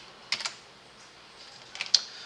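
Two quick pairs of computer keyboard key presses, crisp and close, clicking apart in a quiet room.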